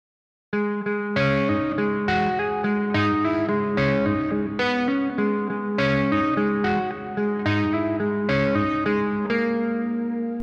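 Electric guitar in drop tuning with effects plays a slow rock/metal exercise, repeatedly returning to a low root note between intervals; each note rings clearly, loud and unaccompanied after a brief silent start.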